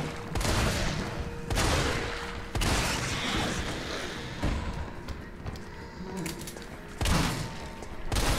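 Shotgun blasts from Resident Evil 3, heavy booming shots repeating every second or two with echoing tails, loud and close amid game ambience.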